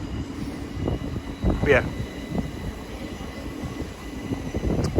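A Class 700 electric train pulls out of a London station near Borough Market, its broad low rumble and rail noise continuing steadily as someone speaks briefly over it.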